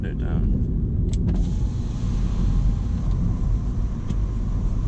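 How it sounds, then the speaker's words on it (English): A 2018 MINI Cooper S electric window lowers inside the car, a faint motor whine under steady road and engine rumble while driving through a village, with a person speaking at one point. "So put the window down."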